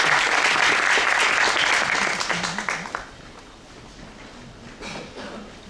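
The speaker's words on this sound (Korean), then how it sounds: "큰 박수로 이기광 교수님을 모시죠." Audience applause at an academic conference session welcoming a chairing professor, a dense burst of clapping from a large room that holds for about three seconds, then thins and fades to scattered claps.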